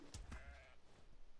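Sheep bleating in the survival game Ark, with a couple of close, wavering bleats packed into the first second and a brief quieter stretch trailing after.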